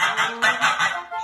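A pet goose honks loudly and close by in a series of harsh, repeated calls, with a short pause before a final honk.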